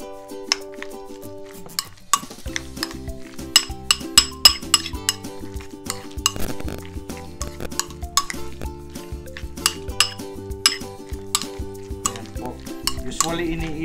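Mayonnaise and sriracha stirred together in a bowl give repeated close clinks and scrapes of a utensil against the dish, steady and rhythmic over a continuous backing of music.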